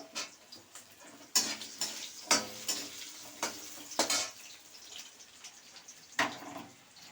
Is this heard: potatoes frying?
yes